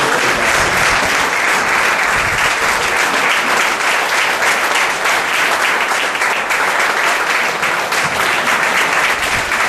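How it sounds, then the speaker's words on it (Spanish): A church congregation applauding at a Sunday morning service, a dense, loud, sustained clapping crowd filling the whole stretch without pause. "dele un fuerte aplauso a aquel que vive y reina en los cielos"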